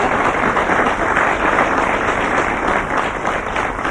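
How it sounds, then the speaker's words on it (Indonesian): A studio audience at a comedy variety show applauds a guest named Pak Gazi, a steady, dense wash of clapping that holds at even loudness for the whole stretch with no voices over it. "Tepuk tangan untuk Pak Gazi ya."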